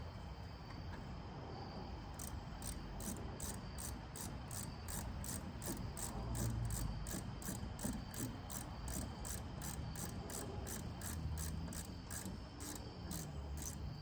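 A bolt being screwed into the brake assembly of a 1979 or 1985 Ford F-250, giving a steady run of rapid metallic ratchet clicks throughout, fairly close, over low background rumble with no talk.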